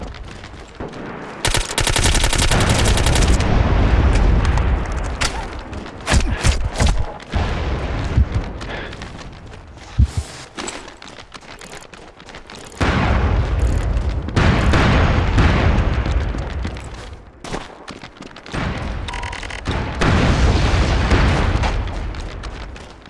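Mortar explosions and gunfire in the shooter game MAG: loud sustained automatic fire and heavy booms in long dense bursts with brief lulls, close and dominant throughout, with no talking.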